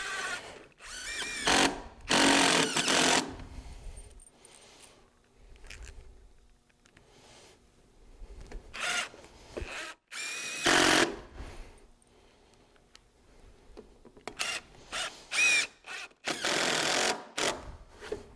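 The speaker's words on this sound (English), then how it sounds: "make sure that you're putting the screw through the cap and not down in the hole that's there" Power drill driving screws through a pergola beam cap: repeated loud, close whirring bursts of a few seconds each, separated by pauses with faint handling noises.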